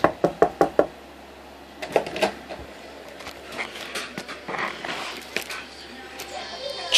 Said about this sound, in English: They'll knock on the door.